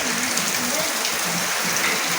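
Light rain falls in a Gujarati village during the monsoon, a steady soft broadband patter that stays even and continuous throughout, with no voices.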